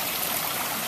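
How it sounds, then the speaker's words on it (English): Garden waterfall pouring into a koi pond beside its filtration system, a steady, close, full rush of splashing water with no break for the whole second. "we've got these beautiful waterfalls"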